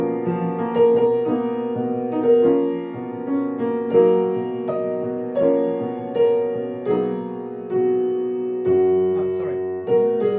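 Instrumental performance of a jazz tune played through its minor chord changes, sustained tonal notes moving in phrases with swelling attacks, close and clear with no talking.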